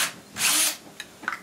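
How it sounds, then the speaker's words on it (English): A power drill bores a 1/2 inch hole in wood, giving one short whirring burst followed by a few faint scraping ticks, close and with no voices. "now what I'm going to do is I'm going to drill a 1/2 inch hole for my 1/2 inch dowel"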